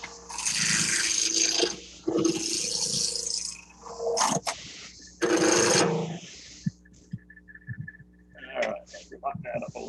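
A wood lathe spinning at about 1600 RPM while a scratch awl piece is turned, with loud rasping bursts of the cutting tool on the wood, a speaking voice in between, and quieter knocks near the end.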